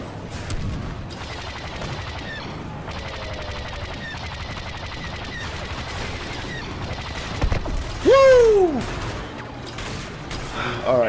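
Blaster gunfire crackles through a Star Wars Battlefront 2 match on the Kashyyyk map, steady bursts of shots across the scene with a louder whooshing, sweeping pass near the end, while a player talks over it.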